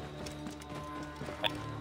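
A horse gallops with rhythmic clip-clop hoofbeats in the Assassin's Creed Origins video game, steady and moderately close, with a brief sharp accent near the end and no talk.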